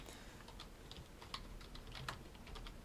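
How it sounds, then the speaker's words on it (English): Steady typing on a computer keyboard, a continuous run of light, quick keystrokes with a couple of sharper taps, close and moderately quiet with no talking. "using my keyboard right now."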